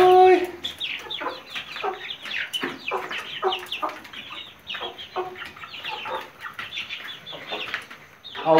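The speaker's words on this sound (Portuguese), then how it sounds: "Olha lá as angolinhas, pessoal, como cresceu." Young guinea fowl keets on a farm, a flock giving repeated short chirps and calls in a busy, overlapping chatter at moderate distance, with faint rustling between calls.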